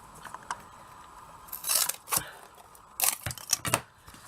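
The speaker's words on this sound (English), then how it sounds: "I'll cut it big enough to work it." A piece of foam board is cut for a miniature craft box, giving sharp crunchy snips and clicks in uneven clusters, close up and fairly loud against a quiet room.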